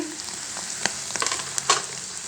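Masala is stirred into eggs frying in a pan, a close, steady sizzle broken by several sharp clicks and scrapes of the spatula against the pan.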